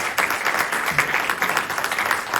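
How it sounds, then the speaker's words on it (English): An audience at an annual meeting claps steadily in dense, sustained applause, moderately loud and uninterrupted throughout. "Please give them a round of applause."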